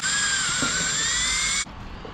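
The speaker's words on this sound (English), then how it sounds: "we're going to have to be drilling holes in here" A loud, steady high-pitched power drill whine runs continuously while drilling holes in an Acura RSX fender, then cuts off abruptly near the end, leaving quieter background noise.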